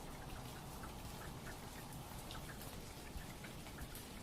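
Steady rain falls outdoors in a continuous, even wash of drops pattering on surfaces, close and fairly loud throughout, with no voices.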